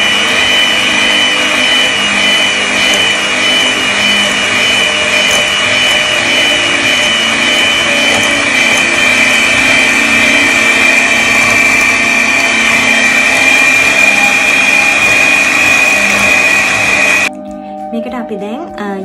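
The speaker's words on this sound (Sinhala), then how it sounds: "බිත්තර එකතු කරලා අපි නැවත බීට් කරනවා." An electric mixer beats eggs into blueberry lemon cake batter with a loud, continuous high whir that runs for about seventeen seconds before cutting off abruptly. A voice can be heard faintly over the machine.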